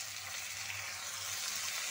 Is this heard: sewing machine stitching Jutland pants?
no